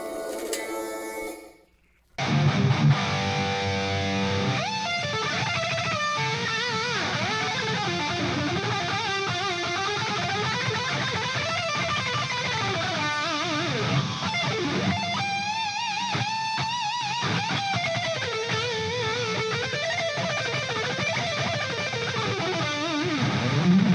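Distorted electric guitar playing lead lines through a Floyd Rose bridge with a Stone Tone sustain block, loud, sustained and continuous with bends and vibrato after a brief quiet start.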